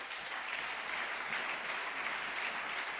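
A church congregation at a worship service applauds steadily, a dense, even clapping that fills the whole stretch at moderate distance, without speech over it.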